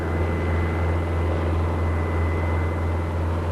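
A helicopter lands on the helicopter platform of the Castoro, a large flat-bottomed pipe-laying barge at sea, its engine and rotor droning loudly and steadily throughout with no voices.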